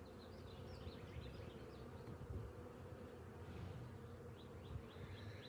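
Dense, continuous buzzing of many honey bees around a hive holding a newly added swarm, a low steady drone with faint higher chirps above it and no voices.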